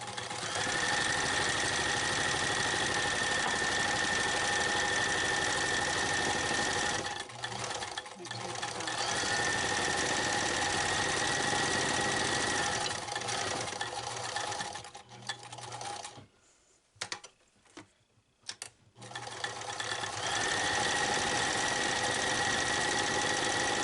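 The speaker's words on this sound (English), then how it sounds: "Just doing a simple top stitch." A sewing machine runs a top stitch around a cat collar, a steady whirring hum in long bursts with brief pauses for pivoting at corners, close and fairly quiet, without talk.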